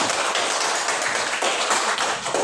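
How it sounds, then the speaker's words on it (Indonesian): A classroom group claps together after a simple exercise, a brief, dense and fairly loud patter of many hands with no voices over it. "tepuk tangan dulu untuk kita semua."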